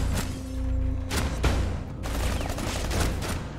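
Rapid bursts of shotgun gunfire in a competitive video game match, several loud blasts in quick succession with clattering mechanisms between them, close and punchy.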